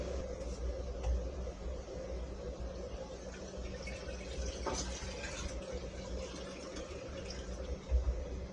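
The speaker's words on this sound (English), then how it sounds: "I'm going to go ahead and get my fermenter sanitized and start filling up the bucket" Liquid pours steadily into a sanitized fermenter bucket for home-brewed wild blackberry wine, a continuous close rushing and splashing with a faint room hum behind it and no voices.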